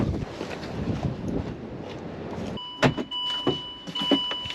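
Wind buffets the microphone through an open window of a Range Rover Sport L320 in rough gusts, then cuts off and leaves intermittent thumps and a steady electronic tone.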